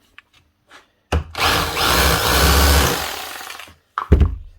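A Hikoki Hitachi hammer drill under repair, failing to hammer, whirs loudly and steadily for a few seconds, winds down, then gives a brief final burst close up.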